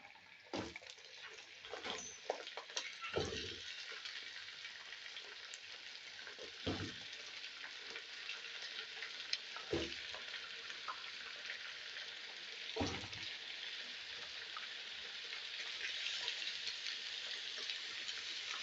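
Beef frying with golden onions in a pot, a faint, steady sizzle broken by scattered clicks and scrapes of stirring.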